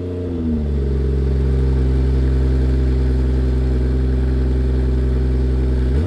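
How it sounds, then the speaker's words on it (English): A 2020 BMW M240i convertible engine flares up and then drops into a loud, steady, deep drone recorded close by, with no talking. "fire up this M240i and see what it sounds like"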